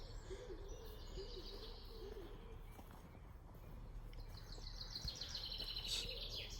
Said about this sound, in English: Singing birds just coming out towards a chaffinch.